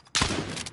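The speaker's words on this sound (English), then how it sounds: "I'm taking fire!" Incoming gunfire in a shooter video game breaks out as a sudden close burst of rapid shots that rattles on for most of a second.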